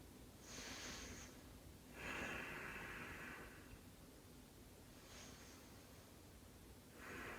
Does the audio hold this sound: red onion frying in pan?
no